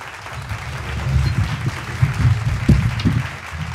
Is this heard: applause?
yes